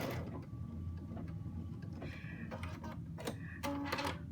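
A Luminaire embroidery machine stitches out a design, giving a steady close mechanical whirr with rapid ticking needle strokes and a few brief clicks and shifts as the hoop moves.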